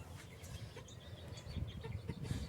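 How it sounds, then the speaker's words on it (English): A leghorn rooster clucks softly, with a few short, faint calls scattered over low background rumble at close-to-middle distance. "This rooster is gorgeous."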